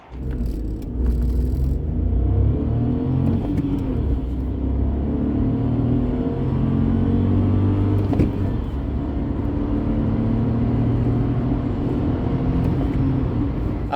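A 2020 Dacia Sandero Stepway 1.0 Eco-G three-cylinder petrol engine on the move, a steady low rumbling drone heard from inside the car, with engine pitch shifting gently as it pulls, and no talk.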